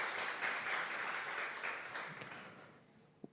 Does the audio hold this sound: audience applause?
yes